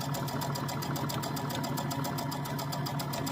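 Sewing machine running a straight stitch along the edge of a Halloween haunted house quilt block, a close, steady rapid mechanical chatter with an even needle rhythm throughout.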